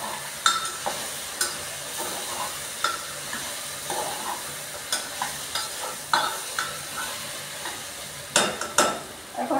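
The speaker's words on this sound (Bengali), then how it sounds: "আবার নাড়াচাড়া করছি।" Potatoes and soybean curry frying in a pan are stirred again and again, a steady sizzle broken by irregular scraping and clinking strokes of the spoon against the pan, close and moderately loud.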